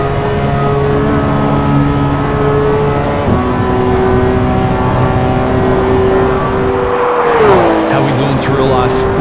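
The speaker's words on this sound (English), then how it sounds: "as we open up that beautiful engine note" Race car engine held at high revs as the car climbs a track section, a loud continuous droning note with a brief dip and pitch shift near the end as it shifts gear.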